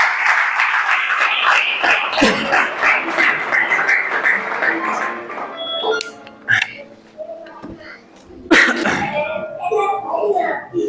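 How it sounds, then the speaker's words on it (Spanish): Congregation applause at a Spanish-language church service, a loud dense burst of clapping that thins into scattered claps and coughs, then swells again near the end. "¿Cuántos dan un fuerte aplauso a aquel que vive?"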